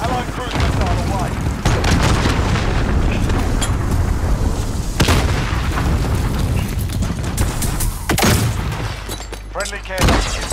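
Heavy explosions and gunfire during a team deathmatch in Call of Duty: Modern Warfare, with loud booming blasts and crackling volleys that rise and fall repeatedly amid the battle.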